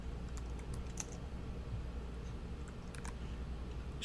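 Code being typed on a computer keyboard: quiet, close clusters of light key clicks in uneven bursts over a low steady hum, no talking.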